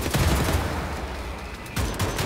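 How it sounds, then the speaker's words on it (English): Sustained game gunfire in Wolfenstein: The New Order, a loud continuous barrage of rapid shots filling the moment with no talking, briefly dipping before resuming at full intensity. "You just have to shoot him in the eye a million times."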